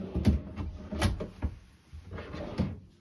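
Soft-closing drawers in a 2021 Lance 1995 camper trailer slide shut several times, each ending in a muffled thump, close by and clear with no talk.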